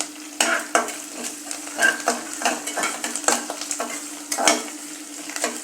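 Cumin seeds and green curry leaves crackle and sizzle in hot ghee for ven pongal, close and clear, with repeated sharp scrapes and clinks of a spoon stirring against the pan.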